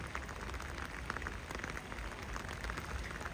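Steady rain patters and hisses on surfaces around a town street in Zurich on a wet autumn day, constant and close with no voices.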